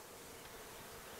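Honeybees buzzing around an open, failing beehive during a frame inspection, a steady dense drone filling the air, close and continuous.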